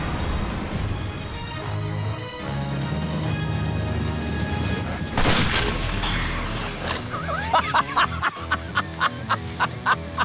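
A rifle shot fired at a scuba tank gives one sharp, loud crack midway through, set against a busy, continuous background with later rhythmic pulses.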